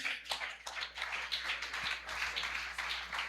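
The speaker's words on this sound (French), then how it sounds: "Applaudissez s'il vous plaît" A church congregation at a youth campaign service claps in uneven bursts, fairly faint and somewhat distant, with scattered individual claps and a low hum beneath.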